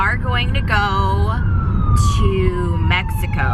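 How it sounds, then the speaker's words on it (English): Emergency vehicle siren passing nearby, loud wailing and yelping tones that sweep up and down over traffic rumble, with brief horn-like blasts. "Sorry about the siren."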